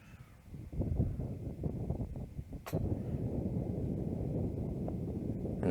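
Wind buffets a microphone outdoors at a disc golf course, a low rumbling roar that builds after the first second and holds steady, with a brief sharp knock partway through and faint bird calls in the distance.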